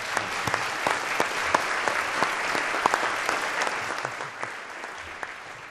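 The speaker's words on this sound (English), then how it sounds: "Can we give them a round of applause?" Audience applause at a 2016 State of the City address, a steady dense wash of clapping from a large crowd that holds for several seconds without a break, even and fairly loud, with no talking over it.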